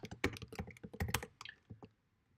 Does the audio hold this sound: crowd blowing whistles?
no